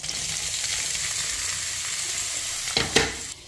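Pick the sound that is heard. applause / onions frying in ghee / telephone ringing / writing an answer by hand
onions frying in ghee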